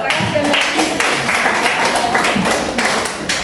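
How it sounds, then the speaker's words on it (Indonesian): Classroom group claps together in a burst of moderately loud applause, uneven hand claps overlapping for a few seconds indoors. "Tepuk tangan untuk Ruth dengan Eklesia tadi dulu"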